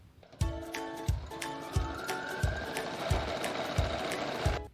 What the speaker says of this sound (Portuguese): agora nós vamos costurar, passar uma costurinha aqui em toda essa extensão do tecido algodão cru lavado